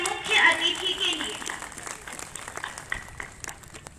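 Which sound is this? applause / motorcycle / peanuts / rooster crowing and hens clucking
applause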